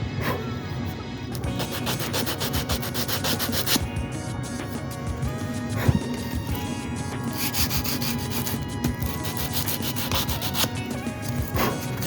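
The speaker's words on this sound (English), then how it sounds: "let me just hit this with the sandpaper and see what it looks like" Sandpaper works over wood filler on a speaker cabinet, a continuous rough scratching at close range in steady back-and-forth strokes that runs without pause and without any talking.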